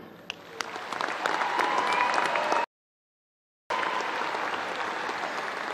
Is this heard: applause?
yes